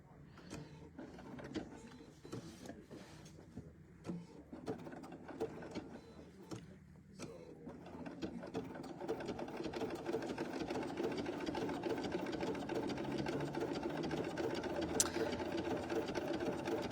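A sewing machine stitches in short bursts at first, then runs in a longer steady whir while someone talks over it.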